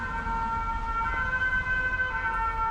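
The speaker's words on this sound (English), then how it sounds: "Gotta love European sirens." A two-tone European emergency siren wails steadily at a moderate distance, its alternating pitches repeating over a low rumble of road traffic.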